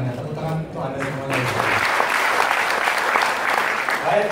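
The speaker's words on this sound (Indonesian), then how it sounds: "Tepuk tangan untuk anda semua." Audience applause at an indoor marketing seminar rises after a voice fades out, then holds as a steady, moderately loud clapping crowd for several seconds.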